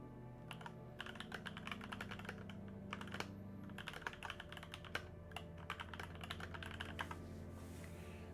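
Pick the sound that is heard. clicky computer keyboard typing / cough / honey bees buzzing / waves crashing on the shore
clicky computer keyboard typing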